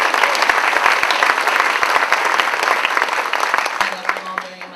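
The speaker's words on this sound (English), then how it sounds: "Can we give a round of applause?" Steady audience applause fills the room, dense and sustained, with a few sharper claps standing out before it thins slightly toward the end.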